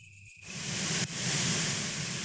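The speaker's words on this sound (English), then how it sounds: "The breeze overpowers the crickets." Crickets chirping in a dense, continuous sound effect, quickly swamped by a loud rushing autumn breeze that starts after a brief quiet moment and dominates the rest.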